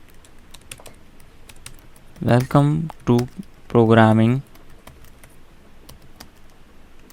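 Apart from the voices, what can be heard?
typing on a computer keyboard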